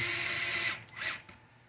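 A power drill runs screws into a radio tray for an SBX-1 build, a loud sustained whine that cuts off abruptly, then spins briefly once or twice more before going quiet.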